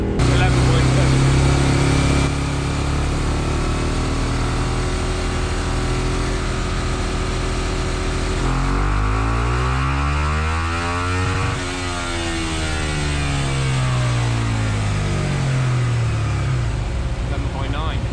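A motorcycle engine on a dyno drones loudly and continuously, its pitch climbing and falling in long sweeping revs with no pauses.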